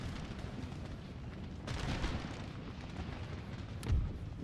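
Cannons fire canister shot during a battle in Empire: Total War, a low rumbling roar of distant artillery with two heavier booms standing out, around two and four seconds.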